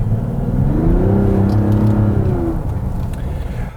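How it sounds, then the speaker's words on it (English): A 2023 Mazda CX-90 with its six-cylinder engine accelerating, the engine note rising steadily in pitch as the throttle is pressed, heard from inside the cabin over a low road rumble. "The 6-cylinder engine, though, does make a nice noise when you put your foot down."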